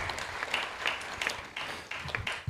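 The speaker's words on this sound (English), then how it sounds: "Let's give them a big round of applause," A temple congregation at ISKCON Dallas applauds, producing quiet, steady clapping in soft, uneven bursts for a couple of seconds.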